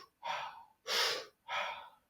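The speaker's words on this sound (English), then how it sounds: "On that 3rd breath in, big exhale." Three strong, breathy gym breaths in quick succession, each a loud rushing burst of air, spaced evenly about half a second apart with no speech.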